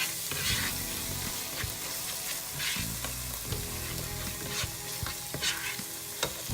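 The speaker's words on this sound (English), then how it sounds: "Give this all a good stir again." Spices, cumin powder and garam masala, get stirred in a frying pan for a potato and pea curry in tomato sauce, a steady sizzle under scraping spoon strokes, with no talking.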